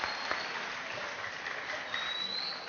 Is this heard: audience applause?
yes